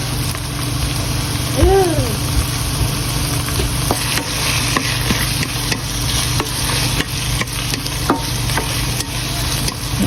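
Chicken fries in a pan as the first step of a Filipino afritada. A loud, close, continuous sizzle runs throughout, dotted with brief utensil taps and clicks.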